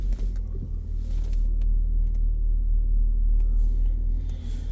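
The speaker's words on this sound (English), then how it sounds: "Start car." An Audi car engine idles after starting, a steady low rumble with a constant droning hum, close and continuous, with small mechanical clicks near the start.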